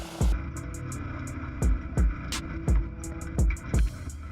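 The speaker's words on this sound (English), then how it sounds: "And now we see the main advantage of the diesel engine. Yes, it's rather noisy and smoky" Diesel engine of the tracked ATV Dobrinya driving across an overgrown old field in a forest, a steady low drone broken by repeated loud thumping knocks at roughly half-second to one-second intervals, close and continuous.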